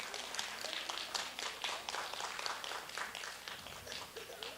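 An audience applauds at a children's composition award ceremony. Steady, moderately quiet clapping from many hands continues throughout without pause.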